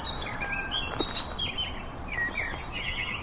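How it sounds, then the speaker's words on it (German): A nightingale sings loud, melodious whistled phrases in a meadow biotope on the Ostfeld at Wiesbaden, with other faint bird chirps and a steady background hiss throughout. "Das ist ganz laut und ist dieser wunderschöne Gesang. Das ist der sogenannte Nachtigallenschlag."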